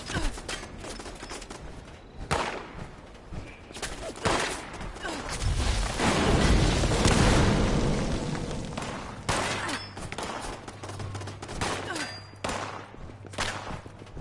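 Enemy gunfire in the video game Fallout 76, a burst of rapid shots and thuds swelling into a loud sustained volley midway, then scattered sharper reports, with some voice chat underneath.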